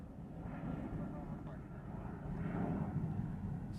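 A Hawaiian Airlines jet departing Honolulu for Los Angeles, a faint, distant low engine rumble that swells gently, with people talking nearby.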